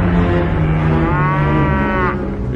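Oxen lowing in a long, loud, drawn-out moo that rises and holds, with a rough, continuous background of farm-animal noise beneath and no one speaking.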